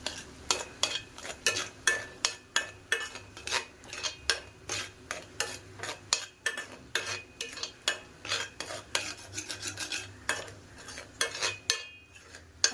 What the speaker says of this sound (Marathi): आपलं वाटप छान तेलामध्ये हे परतवून झालेलं आहे